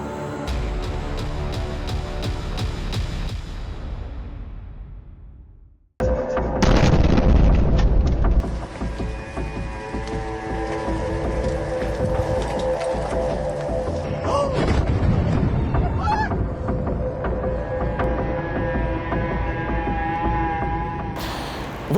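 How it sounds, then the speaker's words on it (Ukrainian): Deep booming blasts and sharp cracking bursts ring out in Dnipro, Ukraine, during wartime missile and drone strikes, then a long stretch of rumbling, echoing detonations and rapid air-defense firing, loud and reverberant. "вибухи, влучання ракети, дронів та робота ППО"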